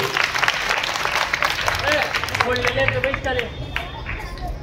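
Children clap together in a classroom during a numeracy activity, a dense, steady patter of many hands that carries through the whole stretch, with a murmur of voices mixed in.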